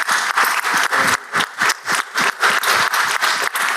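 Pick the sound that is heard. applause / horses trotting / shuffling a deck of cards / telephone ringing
applause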